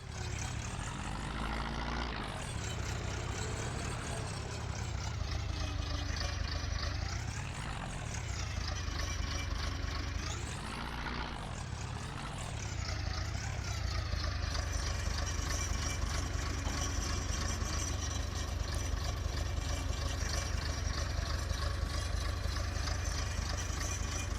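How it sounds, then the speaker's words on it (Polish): Tractor engine in Farming Simulator 22 running steadily while pulling a hay baler, a continuous droning hum with slight rises and dips in pitch, loud and close, with no talking. "zobaczymy, czy pójdzie z prasą ten ciągnik."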